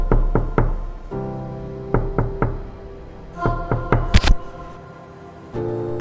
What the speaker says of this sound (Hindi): किसी ने दरवाज़ा खटखटाया।